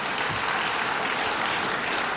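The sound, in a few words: audience applause at a convocation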